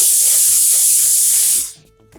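A steam iron blasts a loud, continuous hiss through a pressing cloth onto fusible interfacing on fabric, sustained for about a second and a half before cutting off abruptly into quiet.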